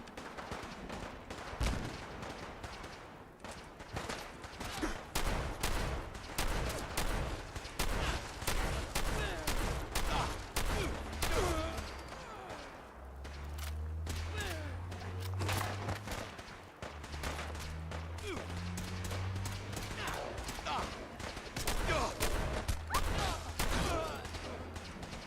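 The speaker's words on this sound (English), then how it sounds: "Gunfire." Rapid bursts of video game gunfire in Fallout 4 crackle and pop throughout, dense volleys with low rumbling booms underneath, steady and busy without pause.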